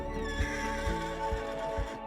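A horse herd in the Roblox video game Sonora neighs and whinnies, a few close, overlapping calls with soft hoof thuds beneath, and no speech.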